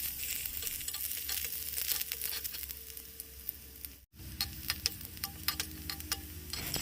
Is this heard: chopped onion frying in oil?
yes